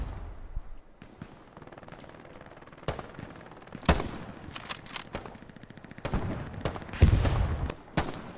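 Rifle and automatic gunfire in the World War II shooter game Hell Let Loose: repeated sharp shots, some single and some in rapid bursts, loud and punchy over a low rumbling background, with no talking.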